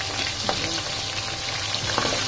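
Eggplant fries alongside a tadka tempering in a pan, making a loud, continuous close-up sizzle with a few faint stirring clicks.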